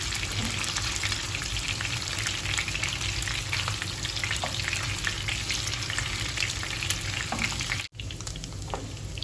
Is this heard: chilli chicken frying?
yes